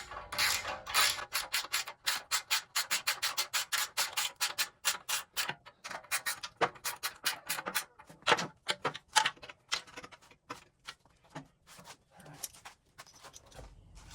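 A ratchet wrench tightens the mounting bolts on a newly installed car radiator, giving quick runs of close, crisp clicks in bursts with short pauses between strokes.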